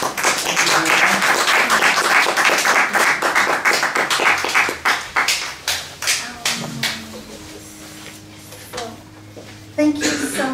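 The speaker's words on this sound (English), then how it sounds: "Round of applause." Audience applause at a poetry reading tribute, a dense burst of clapping that thins into scattered individual claps before fading, with a brief renewed swell at the end.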